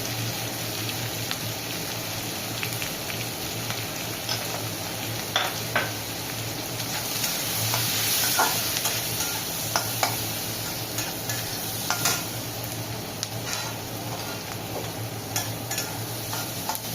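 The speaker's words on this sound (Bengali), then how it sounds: "পেঁয়াজগুলো লাল হয়ে ভাজা হবে" Onions with turmeric frying in a pan, a steady close sizzle with occasional stirring scrapes and clicks throughout, with no talk.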